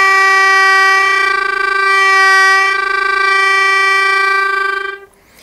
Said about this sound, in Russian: Прием фрулята — это когда воздух поступает через язык, и звук получает такую более интересную окраску